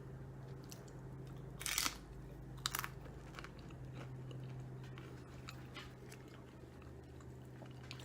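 Homemade low carb tortilla chips dipped in buffalo chicken dip and bitten, two sharp crunches up close followed by quieter chewing against a faint steady hum.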